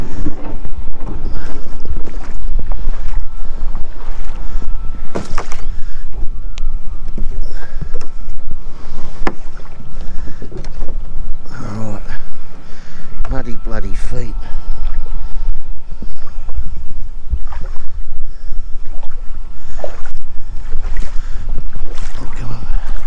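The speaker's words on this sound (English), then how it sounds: "Got a boat coming in." A boat comes in toward a muddy jetty on the Murray River at Katarapko Creek, its engine and the rushing water sounding loud and constant under heavy wind buffeting on the microphone, with a voice talking over it.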